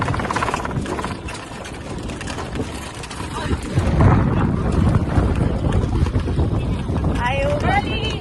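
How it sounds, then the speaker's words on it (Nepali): Strong outdoor wind buffets the microphone during a windstorm on the way to a market. It makes a constant low rumbling roar that swells louder halfway through, with faint voices underneath. "हावा उडी आएर होला हावा चलिरहेको छु"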